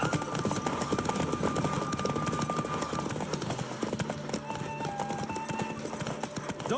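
Rapid galloping hooves drum continuously in a horse race in The Witcher 3: Wild Hunt, the clip-clop rhythm loud and close over a steady rush of wind, with an occasional faint whinny.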